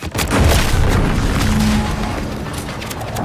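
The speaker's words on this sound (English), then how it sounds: "What's that? An explosion?" An explosion in the video game The Outer Worlds 2 booms with a heavy low thud and then rumbles on loudly for a few seconds as a sustained roar.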